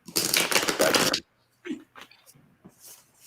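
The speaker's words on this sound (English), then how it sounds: "That'd be a loud shuffle." A deck of playing cards riffle-shuffled loudly at a kitchen table: a dense, rapid burst of flapping card noise lasting about a second, followed by quieter handling sounds and brief soft speech.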